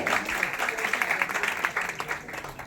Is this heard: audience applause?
yes